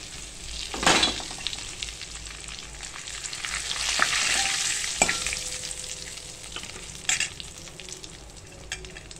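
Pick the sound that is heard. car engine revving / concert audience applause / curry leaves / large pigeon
curry leaves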